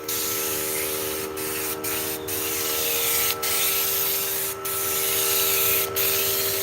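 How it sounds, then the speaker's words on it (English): Kilz primer sprayed from a spray gun in a long, loud, steady hiss with heavy overspray, broken by a few brief pauses, alongside a constant mechanical hum. "That's a lot of overspray."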